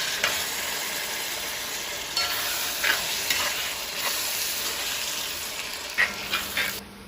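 Chopped tomatoes fry with onions and ginger in oil for a mutton curry, a steady bright sizzle with occasional stirring scrapes and clicks, close and alone.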